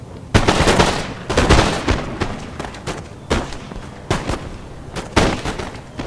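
Troops firing volleys in Empire Total War: repeated loud, crackling musket volleys break out in waves every second or so, each a dense ragged burst of many shots fading into the battlefield din.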